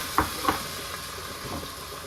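Food is stirred and mixed in a pan over the heat: two quick utensil clinks up front, then a soft, steady sizzle.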